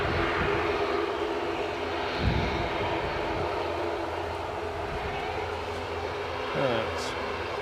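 At Edinburgh airport an easyJet A320 lines up for departure, its engines a steady broadband hum at moderate distance, with brief louder swells and a faint whine near the end, voices murmuring beneath.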